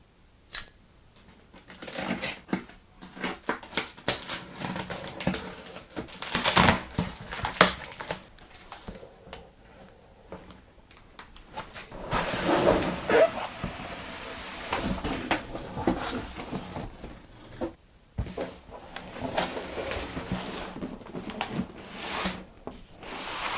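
Logitech G29 steering wheel package being unboxed, with scattered rustling, cardboard handling and clunks of the box and parts being moved, close by and uneven, with no talking.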